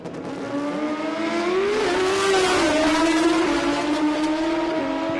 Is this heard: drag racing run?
yes